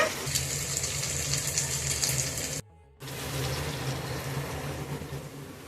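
Chicken frying in a pan for homemade mixed fried rice, a steady close sizzle with a brief break partway, then resuming at the same level.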